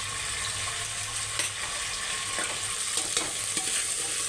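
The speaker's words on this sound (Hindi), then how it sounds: "अब अदरक लहसुन के साथ हम इसे भून लेंगे।" Goat kidney and liver stirred in a pan after two spoons of ginger garlic paste go in for a Bakra Eid dish, with a steady frying hiss and a few scraping stirs and light clinks.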